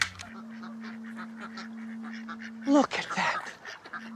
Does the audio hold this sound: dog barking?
no